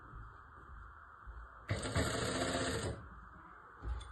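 A domestic sewing machine runs a single steady burst of stitching for about a second and a half on a one-year-old baby's frock, loud and close, with quieter room sound before and after.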